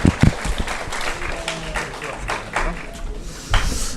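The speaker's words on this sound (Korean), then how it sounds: "우리 선교사님 앞으로 나오실 때 우리 큰 박수로 환영하겠습니다" A church congregation at a Sunday service applauds to welcome a missionary forward, scattered claps rising into a brief burst of clapping amid room noise and some voices.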